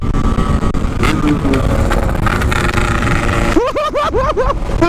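A Kawasaki Ninja RR motorcycle passing on the road, its engine droning loudly and close throughout, with a burst of rising, wavering tonal sounds near the end.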